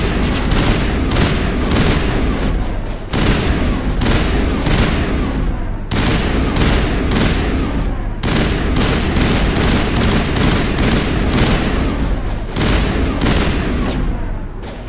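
Experimental pistols fire in Mass Effect 1 in long, loud, rapid bursts of gunshots, broken by a few short pauses, and run almost without a break.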